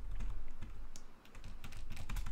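Rapid clicking on a computer keyboard during a Roblox horror game session, a dense run of close keystrokes with a brief pause in the middle, fairly quiet.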